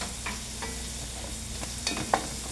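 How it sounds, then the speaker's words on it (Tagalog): White Bombay onions sauté in a hot pan, a steady low sizzle with a few stirring scrapes and utensil clicks, one sharper tap near the end, no voices. "yung onions, white bombay. Ayan, gisa-gisa lang."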